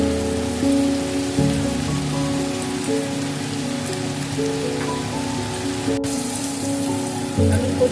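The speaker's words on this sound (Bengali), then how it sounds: "আলুর খোসাটাকে আমি ভালো করে ভাজবো, একদম লাল লাল করে, একদম মুচমুচে করে।" Potato skins fry in hot oil with a steady, rain-like sizzling hiss that stays loud and even from start to finish.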